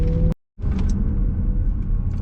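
A Mercedes ML63 AMG with a 6.3-litre engine drives along with a low, steady rumble from the cabin, briefly cut to silence near the start before the engine drone resumes.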